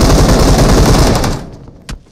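Rapid automatic gunfire from the Warzone video game, a loud continuous burst of shots lasting over a second, then cutting off with one brief trailing shot after a pause.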